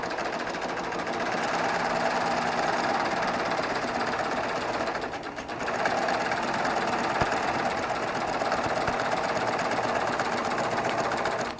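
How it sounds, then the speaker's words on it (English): A Baby Lock Triumph serger stitches decorative thread in one fast, continuous rattling run, close and loud, dipping for a moment midway before carrying on steadily. "I'm just going to sew it down this way and trim part of it"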